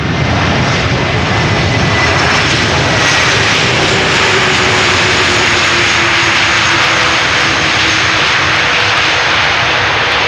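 An Airbus A330 jet arriving at Amsterdam Schiphol Airport roars loudly and continuously, a broad rushing engine noise with a slowly shifting whine that holds steady for the whole stretch.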